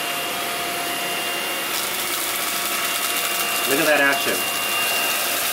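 A MooSoo K17 stick vacuum runs on low speed, giving a steady, fairly quiet whir with a brief louder scraping flutter near the end, and a voice speaks over it.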